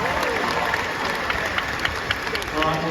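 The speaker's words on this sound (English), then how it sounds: "Give him a big clap" Crowd at Australia Zoo clapping for a crocodile, a scattered, moderately faint patter of applause under outdoor ambience and nearby talk.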